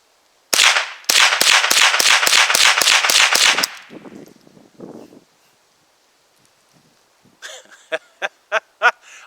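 A semi-auto .22LR rifle fires Aguila Super Extra ammunition in a rapid string of about ten loud, sharp cracks at close range. After a pause with faint handling noise, several more distinct shots follow farther off.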